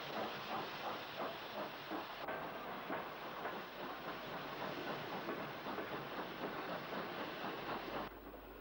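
Black Five steam locomotive 44835 stands at a station platform after bringing in a three-coach train, giving off a steady, fairly quiet hiss of steam with faint rhythmic chuffing and clanking beneath it.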